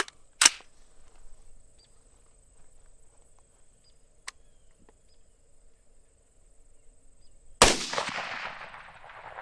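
An AR-pattern rifle fires Freedom Munitions 7.62x39 150-grain rounds outdoors, with two sharp, loud gunshots several seconds apart, the second followed by a ringing decay, and a quiet tick between them over faint insect chirps.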